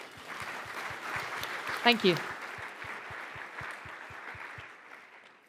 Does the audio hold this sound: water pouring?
no